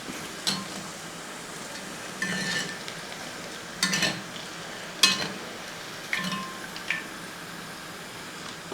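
Chicken nuggets sizzle in hot oil in a home kitchen, a steady fry hiss punctuated by several sharp scrapes and clinks of a metal ladle stirring and lifting pieces.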